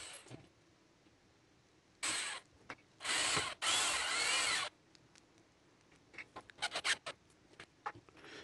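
A power drill drives screws into gate timbers in several short, whirring bursts that ramp up and stop, followed by a quick run of faint clicks and taps close by.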